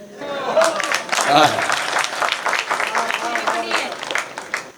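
Audience applause at a Hindi hasya kavi sammelan comedy poetry event, a dense burst of clapping with a voice speaking over it at the start, mixed with crowd noise.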